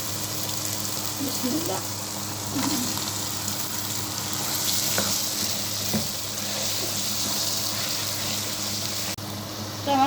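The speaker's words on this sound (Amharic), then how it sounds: "አሁን ስጋውን ጨምራለሁ።" Meat goes into a hot pan for an Ethiopian red stew and sizzles with a steady, bright hiss, with occasional clinks and stirring scrapes. A person speaks briefly over the cooking.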